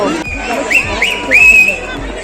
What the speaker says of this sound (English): They're whistling for no reason.